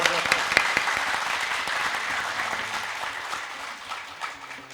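Audience applause at a spiritual discourse by Gopal Mani Ji Maharaj, steady dense clapping from a crowd that stays loud throughout and tapers slightly toward the end.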